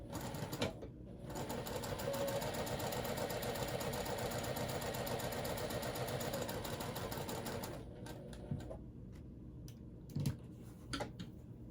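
A sewing machine stitches two pieces of fabric together for a purple water bottle bag, running as one steady, close, rapid whirring chatter for about seven seconds, then stopping, followed by scattered handling clicks and thumps.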